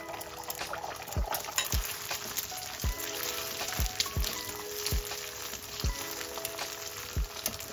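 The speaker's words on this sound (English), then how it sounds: "Once wok is hot, add the eggs." Whisked eggs sizzle steadily in hot oil in a wok, with a sharp metallic scrape of stirring about every second, close and loud with no talk.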